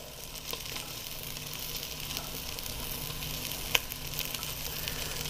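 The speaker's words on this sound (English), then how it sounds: "the roast is searing up nice" A roast searing in a stainless steel pot gives a steady, soft hiss and sizzle with faint crackles and one sharp pop near the end, alone without any talking.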